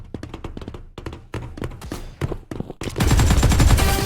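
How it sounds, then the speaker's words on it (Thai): Gunfire in the video game Mini World Royale, rapid bursts of close shots in uneven clusters that build into a dense, loud volley at the end. "ยิงฉันอยู่พบศัตรูแล้ว"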